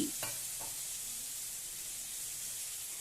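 Boiling water poured over golden-fried vermicelli in a pan gives a sharp burst of sizzle and steam at the start, then settles into a soft continuous hiss that fades to a faint simmer, with no talking.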